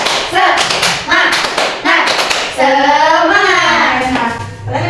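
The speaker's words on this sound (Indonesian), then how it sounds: "Tepuk semangat." Children in a classroom play a rhythmic clapping game, tepuk semangat, with loud sharp claps in short regular bursts, then a group chant rising in voices near the end.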